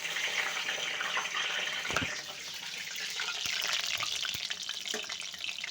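Urad dal vadas fry in hot oil with a loud, steady crackling sizzle close by, broken by a few sharp pops and spatters, with no voices.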